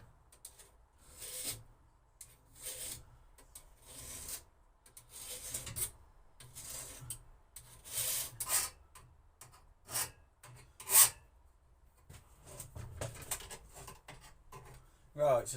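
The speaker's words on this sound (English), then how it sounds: "we will be sharpening the old head trimmer attachment for the Titan, because it's as blunt as anything" A blunt Titan hedge trimmer attachment gets its blade sharpened with a file, rhythmic rasping strokes in uneven bursts with short pauses between them, close up and fairly quiet.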